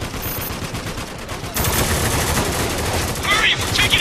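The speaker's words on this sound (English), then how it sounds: "We're taking heavy fire!" Heavy gunfire in the Spec Ops: The Line shooter game: a dense, continuous roar of shots that gets louder partway through, with chirpy higher sounds near the end and faint voices mixed in.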